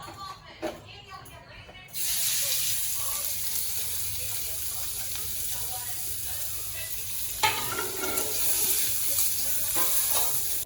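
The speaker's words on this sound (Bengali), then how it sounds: "পেঁয়াজ আর লঙ্কা কিছু প্রথমে কড়াইতে দিয়ে দেবো" Onions and green chillies hit hot oil in a wok and burst into a loud, continuous sizzle that keeps going while they are stirred, with a short, quieter stretch before it starts.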